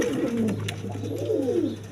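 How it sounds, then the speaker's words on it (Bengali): A pair of colored pigeons with white beaks, sitting on two eggs, coos in low, rolling phrases that repeat steadily and close up, with no talking over them. "এখানে আরেক পেয়ার কবুতর আছে দেখেন"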